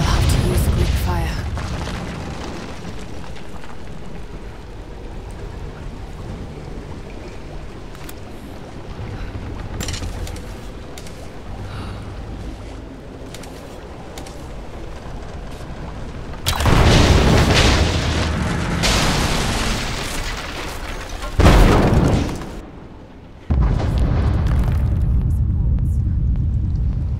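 Greek fire explosions in the video game Rise of the Tomb Raider, set off near an unstable statue: several loud, roaring blasts arrive in quick succession after a quieter stretch, the last one cut off sharply.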